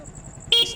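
A Yamaha Fazzio scooter's stock horn gives one short, thin beep after a quiet moment, fairly faint and close.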